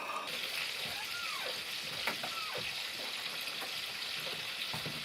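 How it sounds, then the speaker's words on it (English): Bacon sizzles and crackles steadily in a frying pan, a constant hissing spatter, with people talking faintly over it. "Keep the bacon frying up. You know, Bacon sizzling away over here."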